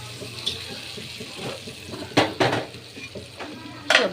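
Vegetables such as potato and pointed gourd go into a hot pan for a vegetable khichuri, hissing softly while a spoon scrapes and stirs in sharp clattering bursts over a steady sizzle.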